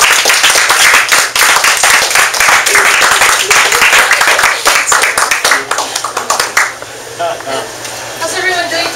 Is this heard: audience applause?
yes